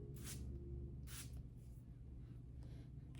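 A perfume spray bottle of watermelon-scented fragrance gives several short, soft hissing puffs at an uneven pace, faint and close against a quiet background.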